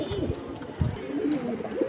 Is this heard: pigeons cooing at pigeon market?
yes